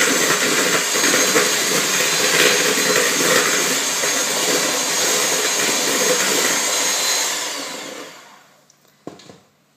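An electric mixer beats chocolate cupcake batter just after the egg goes in, a steady close whirring drone for about eight seconds before it cuts off, leaving near silence and a couple of faint knocks.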